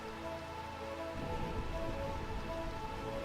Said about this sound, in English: Burmecia, realm of the eternal rain.